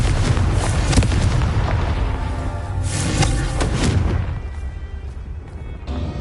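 Fiery Confringo spell blasts in Hogwarts Legacy, heavy booming explosions that roll into one another with a crackling tail, loud and close, easing off toward the end before another hit begins.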